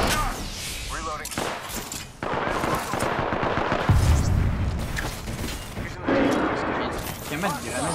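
Rapid automatic gunfire and explosions in an Apex Legends match, with bursts of close, loud shots broken by short pauses and a heavy boom midway, mixed with game sound effects.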